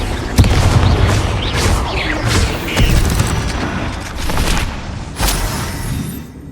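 Confringo fire spell blasts in Hogwarts Legacy, a run of loud booms and crackling bursts over a dense combat din, with several sharp impacts spread across the stretch.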